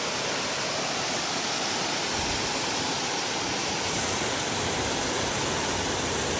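Constant roaring rush of a monsoon waterfall in Maharashtra, dense and unbroken, close and enveloping with no other sounds standing out.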